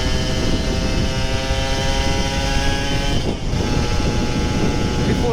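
A Kawasaki Ninja RR 150 two-stroke motorcycle engine holds a loud, close, buzzing rev with a strong harmonic whine, dips briefly once, then resumes at steady high revs.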